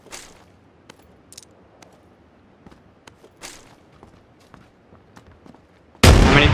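Scattered sharp gunshots from the video game PUBG crack out at irregular intervals, mostly faint and distant, with one louder burst before a sudden loud roar at the end.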